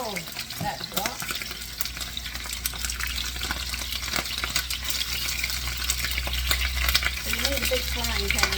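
Italian sausages, about 1.5 pounds, sizzle and crackle steadily in a big frying pan over a low, constant hum, with sharp pops and clicks scattered throughout.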